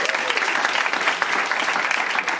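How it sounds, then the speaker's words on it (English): An audience claps together throughout, a dense, steady burst of applause at a recycling talk. "I want to have an applause for who thinks recycling is important"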